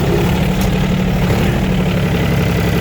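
A Yanmar AF224 Japanese mini tractor with half cab, reverser and four-wheel drive runs its diesel engine steadily at idle, a loud, close, continuous low rumble with no talking.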